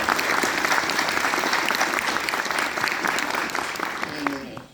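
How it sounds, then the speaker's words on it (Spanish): Audience at a book presentation in a university hall breaks into sustained applause, a dense steady wash of clapping that holds for several seconds and then fades out at the end. "así que les pido un aplauso, por favor"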